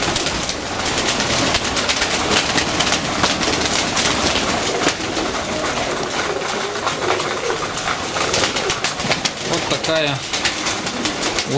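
Pigeons coo in a loft during their morning feeding on granulated feed. Overlapping throaty coos and occasional wing flaps fill a busy, noisy background throughout.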